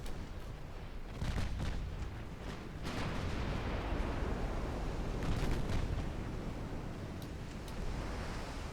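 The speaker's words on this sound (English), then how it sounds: "Oh, torpedo destroyed." A torpedo blows up in a naval battle video game, heard as a broad, continuous rumbling roar with a few stronger bursts, like muffled distant blasts over sea noise.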